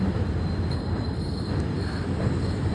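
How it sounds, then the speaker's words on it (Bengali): A steady, rumbling roar of a train passing close by at a level crossing in rain, continuous and broadband with no voices. "আমবাড়ি লেভেল ক্রসিং ট্রেন যাচ্ছে"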